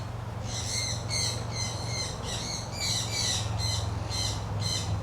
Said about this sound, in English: This is an umbrella cockatoo.